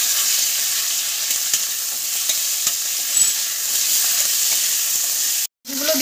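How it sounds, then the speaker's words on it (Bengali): Garlic, garlic leaves and chicken fry in oil for momo filling, a bright, constant hiss with faint scrapes of stirring, close and alone, ending in a brief cut. "একটু রসুনটা ভেজে নেবেন, তাহলে গন্ধটা খুব ভালো আসবে।"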